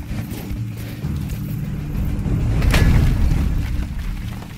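Heavy cavalry horses charge in Age of Empires 4, a loud, continuous rumble of many pounding hooves that swells toward the middle and carries on to the end, with no talking.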